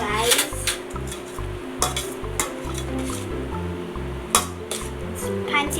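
Instant pancit canton noodles and cabbage being stirred in a pan, spatula clinking and scraping against metal in rhythmic strokes over a steady sizzle.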